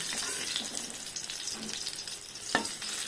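Prawns frying in oil in a pan, a steady close crackle and hiss with scraping stirs and one sharp clink near the end.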